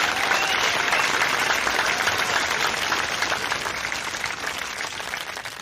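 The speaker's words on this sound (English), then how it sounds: "please, folks, please give Phil Anderson a round of applause" A live audience at a political campaign event applauds, steady dense clapping that stays loud throughout and tapers slightly toward the end, with no speech over it.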